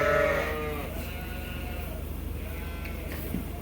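Sheep bleat loudly at feeding time in a farm barn where weaned lambs are fed wrapped alfalfa-grass hay, with a dense, steady chorus of calls filling the space.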